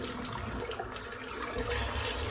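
A shaving brush rinsed under running water, a close, steady splashing hiss of flow lasting about two seconds.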